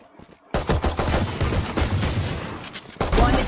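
Shotgun gunfire in the video game Valorant, a sudden loud blast after a brief quiet start followed by dense, sustained firing noise and another heavy shot near the end.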